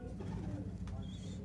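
Kalsara pigeons coo softly in a pigeon loft, giving low, quiet, rumbling calls under a man's speech.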